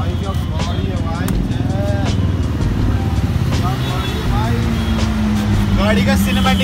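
A Ford Mustang GT engine rumbles loud and close with a steady, deep drone that swells slightly toward the end, while someone talks over it.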